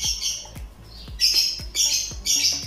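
A bird squawks in loud, sharp, repeated harsh calls close by, several bursts in quick succession with short gaps between them.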